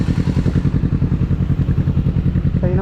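A 2024 Kawasaki ZX6R motorcycle engine revs hard up close, a loud, steady, throbbing drone with a rapid pulsing rhythm that holds throughout.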